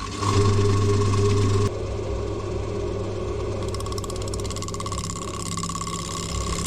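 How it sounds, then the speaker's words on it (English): Wood lathe turning a Matai bowl at about 760 RPM, a steady motor hum with a constant low drone that drops slightly in loudness partway through, then carries on evenly. "I'm going to do this at about 760 RPM, that's where the lathe seems to be happy"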